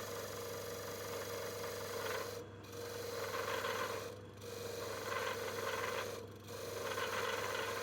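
A steady rasping scrape of a bead cutter biting into spinning ash wood on a lathe, pausing briefly three times, over a constant motor hum.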